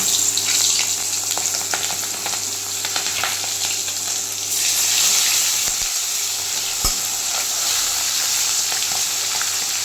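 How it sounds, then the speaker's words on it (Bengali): Prawns fry in hot oil in a wok, giving a steady, loud broadband sizzle with crackles throughout, a couple of sharp knocks midway and no talking. "কড়াইটা গরম হয়ে গেছে, এখন আমি এই চিংড়ি মাছগুলো ভাজার জন্য দিয়ে দেবো"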